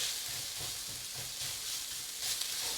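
Minced pork with garlic frying in a hot pan, a steady close sizzle and hiss with faint scraping of stirring underneath.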